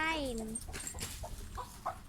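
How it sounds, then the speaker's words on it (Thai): A chicken that has wandered into a house gives a loud drawn-out squawk followed by a few short clucks, close by, while someone talks over the sounds. "พอดีไก่มันมาบุกรุกบ้านเรา"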